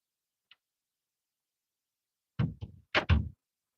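An indoor door is pushed shut, giving a quick cluster of close wooden thuds and a knock after a long near-silence broken only by one faint tick.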